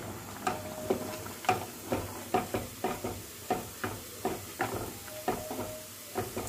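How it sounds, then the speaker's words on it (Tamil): Soft, steady bubbling with small irregular pops and clicks as biryani simmers in a pot nearby at low volume. "இந்த இடத்துல நம்ம பிரியாணி வந்து நல்லா கொதிக்க ஆரம்பிச்சிருச்சு"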